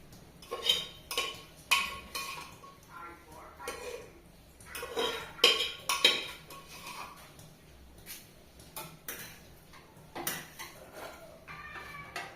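A spoon scrapes and clanks against a pot and plate while serving khichuri at home, a series of close metallic clinks and scrapes in short bursts separated by brief quiet gaps.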